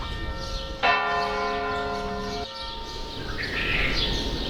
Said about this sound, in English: The early morning bells.